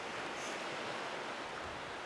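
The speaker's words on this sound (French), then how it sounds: "Ewan Le Goff, alias Wanwan, s'apprête à aller dompter des vagues de 10 cm" Small sea waves wash at the shore in a steady, soft rush of surf noise, faint and continuous with no distinct breaks or voices.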